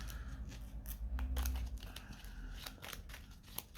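Playing cards being shuffled by hand during a solo game of the Mage Knight board game, a steady close run of crisp papery riffles and snaps with no talking.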